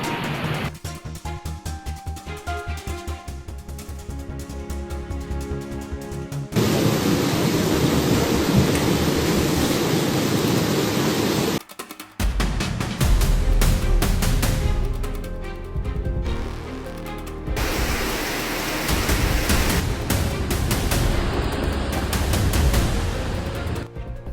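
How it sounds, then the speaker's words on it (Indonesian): Heavy, high-intensity rain in Aceh during flooding, a dense continuous downpour with rolling thunder rumbling through it. The roar swells and shifts in loudness, broken by a brief lull near the middle. "Hujan deras dengan intensitas tinggi kembali mengguyur wilayah Aceh"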